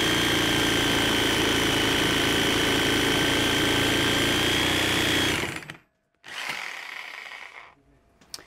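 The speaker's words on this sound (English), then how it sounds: "that's with a brand new blade in the Sawzall." A Sawzall reciprocating saw with a brand new blade rips through hardwood, a loud, steady buzzing drone for about five seconds, then cuts off, restarts briefly and trails away.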